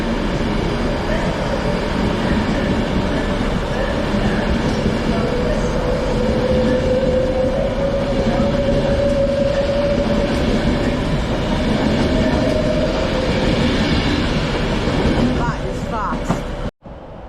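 Train 156429 pulls out of Preston station, a loud sustained rumble of wheels and diesel engine with a rising tonal whine, continuing close and steady before cutting off abruptly at the end.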